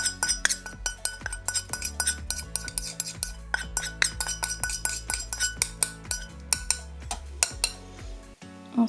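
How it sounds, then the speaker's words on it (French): A spoon stirs black glitter nail polish mixture in a small container, producing repeated bright clinks and scraping taps against the sides in a busy, irregular rhythm, close up. "Et bien remuer comme ceci. Avec de la cuillère."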